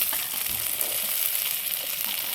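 Steady, dense sizzling of onions and curry leaves frying in hot oil, continuous and close, with no talking.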